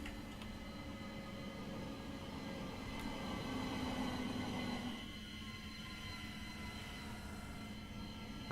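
A train on the Midland Mainline in the Train Simulator video game runs with a steady low rumble and faint rail hum, swelling louder for a few seconds midway before settling back.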